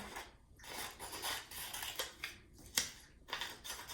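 Scissors snip at close range in a quiet room, with several crisp cuts and rustling paper in an uneven rhythm and one sharper snip standing out.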